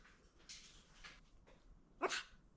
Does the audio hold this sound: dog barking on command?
yes